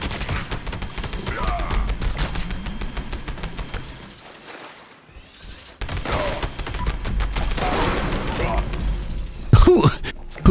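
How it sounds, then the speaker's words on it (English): Gunfire from a pepper shaker gun in a shooting video game, a steady rapid burst of shots that drops off briefly mid-clip and then resumes, with a louder crack near the end. "Why does the pepper shaker not even sound like anything?"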